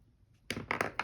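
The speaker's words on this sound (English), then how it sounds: "So if I just cut it kind of not quite in half." A craft piece for a snail-and-mushroom model is cut roughly in half, with four crisp, close snips in quick succession after a brief quiet moment.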